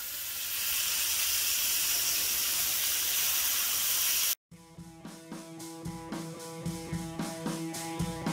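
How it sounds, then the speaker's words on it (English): A Black Angus NY strip steak sears in a hot pan with a loud, steady hiss that cuts off abruptly, followed by a rhythmic run of sharp metallic clicks and pulses. "This is how you sear a steak."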